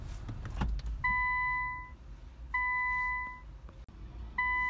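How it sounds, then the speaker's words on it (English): A 2015–2019 Infiniti Q50 being switched off with the parking brake set, giving three identical electronic chimes at steady intervals over a low, quiet cabin hum. "And then turn off the car."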